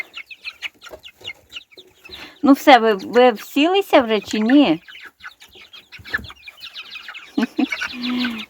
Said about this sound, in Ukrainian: Бачите, яка курка гарна. Курка-чебатурка. І це біля неї курка.